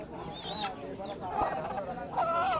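A red rooster at a rural village market in Bangladesh gives clucking calls, rising and falling in short bursts, close by amid busy market murmur and background voices.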